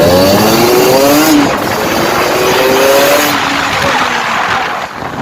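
A Kawasaki Ninja RR motorcycle with a newly fitted aftermarket exhaust revs hard in first gear on a road. Its loud, rough engine note climbs steadily in pitch for several seconds, up close, with no talking.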